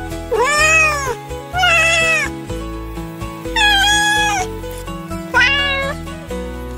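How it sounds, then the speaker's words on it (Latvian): A cat meows four times, loud and close, drawn-out plaintive cries with short pauses between them and a low hum underneath. "Kaķi saka ņau."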